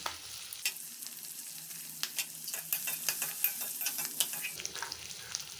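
Onions and capsicum fry in a pan, a close sizzle broken by repeated sharp spatula scrapes and stirring knocks, with no one speaking.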